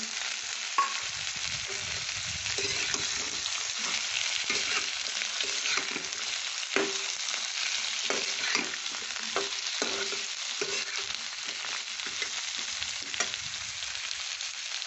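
Carrots fry in a pan for a chicken stew, a continuous close sizzle broken by regular scraping stirs of a spatula, with no voices.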